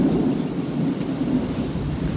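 Thunder rolling through a tornado storm, a loud continuous low rumble blended with steady rain, with no voices.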